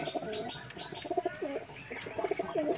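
Madras pigeons in a Kolkata loft coo in soft, repeated throaty phrases, several birds close together with a few chirps mixed in, fairly quiet and without talk.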